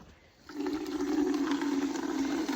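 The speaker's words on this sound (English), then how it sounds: "And I'm trying to fill water buckets real quick" Water gushes from a hose into buckets during morning chores on a goat farm, a steady, close rushing flow that starts abruptly after a brief quiet moment and runs on without pause.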